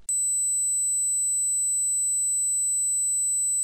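A high-frequency test tone of around 8000 Hz plays alone: one steady, pure, piercing whistle that holds at an even level for about three and a half seconds, then cuts off cleanly.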